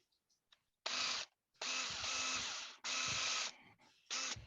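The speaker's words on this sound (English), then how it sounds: "drill a small pilot hole" Power drill fitted with a bit just over 1/4 inch boring a small pilot hole for a homemade saw jig, running in four loud bursts of whining drive and cutting, with short pauses between them.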